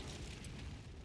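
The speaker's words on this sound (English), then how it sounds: "Ah, a third explosion." An explosion sounds as a low, rumbling boom with a steady, muffled roar, heard at a moderate distance without any talk.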